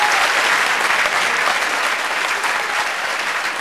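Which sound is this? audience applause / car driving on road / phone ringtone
audience applause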